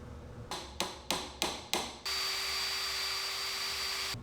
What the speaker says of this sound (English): I'll line up the holes and get to drilling.